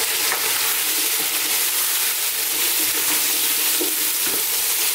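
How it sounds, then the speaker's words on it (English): Fresh green chilli and chopped onions sizzle in a lamb curry frying over high heat, giving a dense, continuous crackling hiss with occasional stirring scrapes. "Now I'm going to put in some fresh green chilli."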